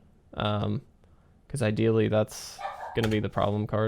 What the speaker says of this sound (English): Sorry if you hear a dog barking in the background.